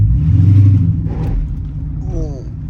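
Dodge Challenger SRT8 392 on fresh brake pads rolls along, its deep, steady low rumble filling the cabin, with a brief voice rising over it near the end.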